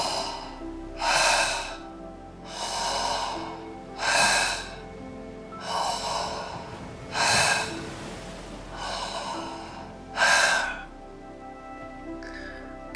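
Meditation breathing in and out through the mouth, about seven slow, loud, airy breaths in a steady rhythm with pauses between them, close to the ear.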